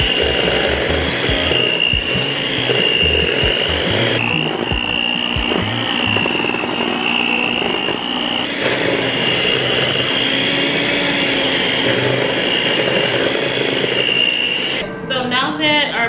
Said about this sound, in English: now that our butter is nice and creamed, you want it to look pretty fluffy, very well incorporated